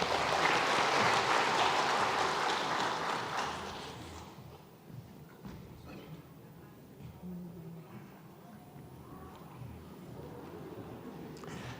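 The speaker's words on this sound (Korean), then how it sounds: "늘 수고하는 우리 목자들 한번 박수로 격려하겠습니다" A church congregation at Sunday worship claps to encourage its shepherds, a moderate burst of applause over the first four seconds that fades into quiet room tone with faint shuffling.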